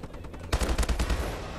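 Rapid automatic gunfire in Call of Duty: Advanced Warfare, a fast burst of close, punchy shots in steady rhythm, trailing off into a dense rumble.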